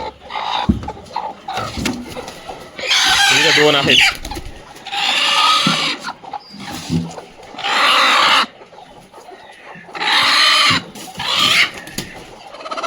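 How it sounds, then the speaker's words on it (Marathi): Broody desi hens cluck in bursts from a shed box holding several birds, loud and close, alternating with someone talking over them. "या सगळ्या खुडूक कोंबड्या आहेत मित्रांनो"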